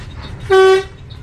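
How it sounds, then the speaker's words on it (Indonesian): One short, loud bus horn blast sounds over a low rumbling bus engine, lasting about a third of a second. "Aku klakson Bu"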